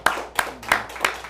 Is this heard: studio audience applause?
yes